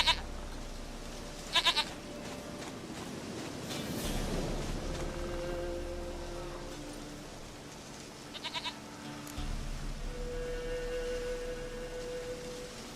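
Goat bleating in The Witcher 3, a few short nasal bleats coming at intervals over a soft game ambience and low background tones.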